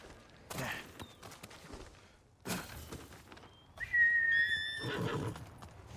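A horse in the video game Ghost of Tsushima: rustling hoofbeats and movement, then a clear, loud whinny rising and falling near the end, with a few sharp bursts in between.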